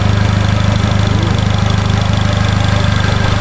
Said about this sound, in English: I think it's a car engine